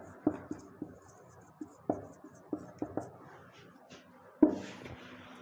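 A marker or chalk tapping and scratching across a board in short separate strokes, close and fairly clear, with a louder knock near the end and no talk.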